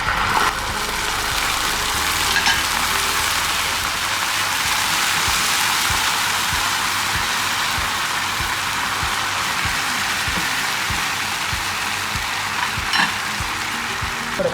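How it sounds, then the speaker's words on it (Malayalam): Sauce mix poured over browned onions for chicken lollipop sets off a loud, steady sizzle and crackle in a hot pan that runs unbroken throughout, with occasional soft clinks and no talking. "ഇത് നമ്മുടെ ഓണിയൻസ് ബ്രൗൺ കളർ ആയിട്ടുണ്ട് ഇനി ഇതിലൂടെ നമ്മൾ എടുത്തു വെച്ചിരിക്കുന്ന സോസ് മിക്സ് ഒഴിച്ചു കൊടുക്കാം"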